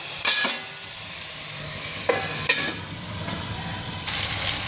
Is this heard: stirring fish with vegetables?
yes